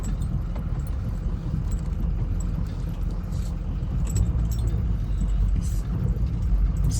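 A truck drives over rough, soft ground on a compound, with a continuous low engine rumble and rattling jolts and clanks as it bounces along, and a person talking inside the cab.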